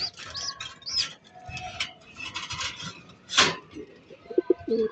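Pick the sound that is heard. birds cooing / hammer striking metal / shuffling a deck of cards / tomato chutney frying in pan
birds cooing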